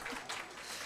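A workshop audience applauds, a brief burst of dense clapping from a room full of people, fairly loud and continuous.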